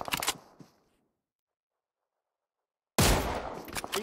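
Rapid gunfire from the video game PUBG Mobile in two bursts: a cluster of sharp shots at the start that fades out, a silent gap, then another loud volley of cracking shots.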